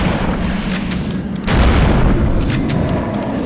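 Gunfire in Eternal Darkness: Sanity's Requiem: a few loud, close shots, with a heavy blast around the middle ringing into a booming tail.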